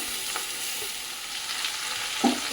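Potato and onion fry in a wok before fish goes in; a steady, even sizzle fills the short stretch, with a single soft clink near the end and no talking.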